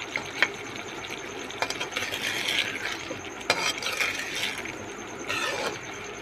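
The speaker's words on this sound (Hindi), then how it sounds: "थोड़ी देर इसकी अच्छे से बुनाई कर लें" Mutton and masala sauté in a pot for yakhni mutton pulao, with a low sizzle under repeated scraping and clacking strokes of a spoon stirring against the pot, close and moderately loud.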